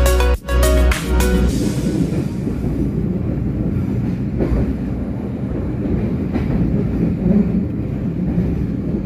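An Argo Wilis passenger train from Bandung to Surabaya Gubeng rolls along the rails with a steady low rumble and rhythmic clatter, a brief wheel squeal near the start.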